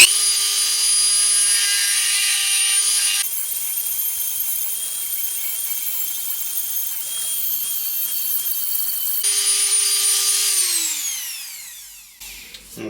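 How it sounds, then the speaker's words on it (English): A Dremel rotary tool fitted with a diamond bit burr grinds during a table restoration, giving a loud high whine that runs steadily, quietens for a stretch in the middle, then rises again and spins down near the end. "I have got these diamond bit burrs for the Dremel"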